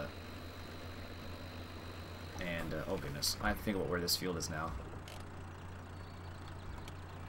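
Low steady hum of a tractor engine idling in the farming game Farming Simulator 2013, continuous and even throughout, while a person talks over it midway.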